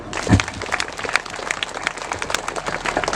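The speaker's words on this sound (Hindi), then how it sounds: "उनके लिए, उनके प्यार के लिए, उपस्थिति के लिए हम धन्यवाद देते हैं। तालियां बजा देंगे।" Audience at a village ceremony welcoming a newly ordained priest claps together, a lively burst of hand claps with one thump near the start, close and steady throughout.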